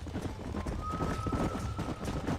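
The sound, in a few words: horses galloping in video game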